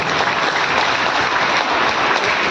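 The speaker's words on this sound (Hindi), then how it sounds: "मैं चाहूंगा सभी गुरुजनों के लिए और स्पीकर संगत के लिए जोरदार ताली होनी चाहिए" An audience at a direct selling event claps loudly for the gurus and speakers. The applause is dense and continuous, filling the space without a break.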